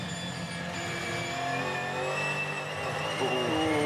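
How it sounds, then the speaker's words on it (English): Supercars race cars on throttle through a right-hand turn at a circuit, engines droning and revving steadily at mid distance, with a rising note toward the end. "You can hear in the background just the throttle treatment there as they just try and manage grip through the right-hander at turn 9."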